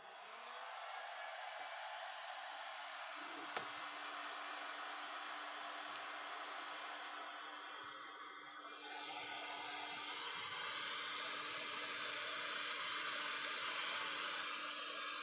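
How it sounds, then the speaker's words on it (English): A heat gun set to 200 degrees blows a steady, faint whoosh of hot air for the whole stretch, with a low hum and a slight shift in tone partway through, no voices. "We heat it up with a heat gun"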